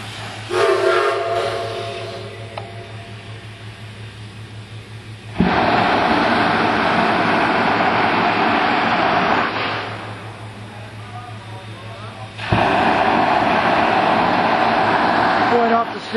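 A Shay steam locomotive lets off steam in loud, broad hissing blasts, each lasting several seconds with quieter gaps between, heard close up after an opening whistle-like tone and mechanical clanking.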